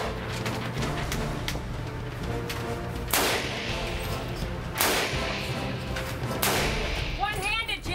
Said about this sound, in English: here's the video of me firing that weapon